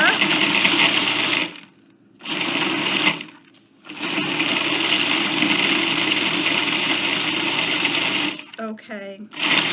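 Kitchen blender pulsing chocolate in short, loud bursts with brief pauses between them, while people talk nearby in a home cooking setting.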